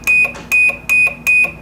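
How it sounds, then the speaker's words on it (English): A Setra SRPM room pressure monitor sounding its alarm self-test: four loud, evenly spaced electronic beeps, each with a short trailing chirp, close and clear. "test your alarms to make sure that they are working"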